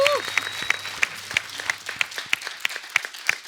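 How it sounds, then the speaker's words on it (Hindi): Studio audience on a Kapil Sharma Show set claps loudly and steadily, with sharp rhythmic accents from individual hands, a brief tone and faint voices at the start. "एक बार मैं आप सबसे कहूंगा जोरदार तालियां इन लोगों के लिए"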